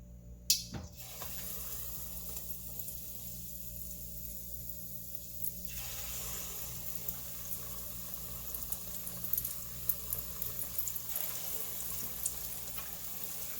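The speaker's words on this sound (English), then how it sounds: "you want to fry it till it's deep, golden, deep, crispy brown" Batter-coated banana deep-frying in vegetable oil: a continuous crackling sizzle with fine popping bubbles, steady and close, after a brief knock at the start, without any talking.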